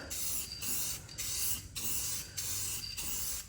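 Aerosol rattle can spraying black paint onto the underside of a Jeep, a steady close hiss in four bursts of about half a second to a second each, separated by short pauses.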